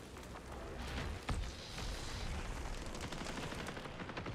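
Gunfire from a video game shooter crackles in a dense, continuous stream of distant-sounding shots, fairly quiet and steady throughout, with one slightly louder pop near the middle.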